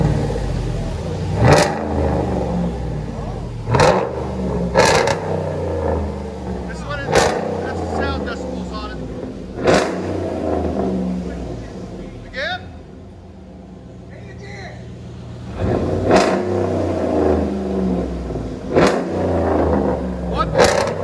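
Heard from inside the cab, a RAM pickup truck engine revs in repeated surges, rising and falling between quieter idle stretches, loud and close, with voices talking over it.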